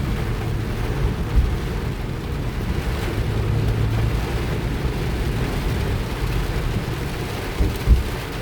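Steady rain drums over a car's low, rumbling road noise as it drives along a highway, a dense continuous wash with a couple of brief thumps and no voices.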